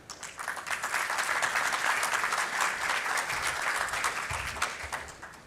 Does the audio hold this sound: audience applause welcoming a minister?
yes